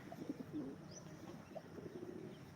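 Malabari pigeons give soft, faint coos in short, scattered phrases over a quiet background, with no voices.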